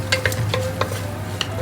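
Onions and green chili sauteing in a pan, a soft steady sizzle broken by a few spoon strokes stirring the mix, close and moderately loud with no talk.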